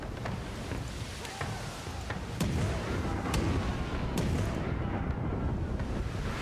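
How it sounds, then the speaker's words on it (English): Ship cannons fire in a naval battle in the video game Pillars of Eternity 2 Deadfire, several sharp booming reports over a rumbling, windy sea backdrop, with the blasts scattered across the clip. "Fire cannons."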